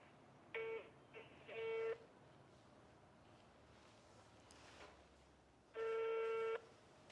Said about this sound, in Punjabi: ਫੋਨ ਲਾ ਕੇ ਨਾ ਪੁੱਛ ਲੈਣੀ ਭਾ ਰਮਨ ਨੂੰ